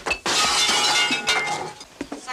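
Glass jars smash and clink, a loud bright shatter followed by scattered tinkling pieces and a few smaller clinks.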